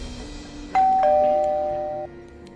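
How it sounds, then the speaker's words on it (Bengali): A two-tone electronic doorbell chimes once, a bright high note followed by a lower sustained tone that fades out, with quiet room noise around it. "হঠাৎ কলিং বেল বাজল"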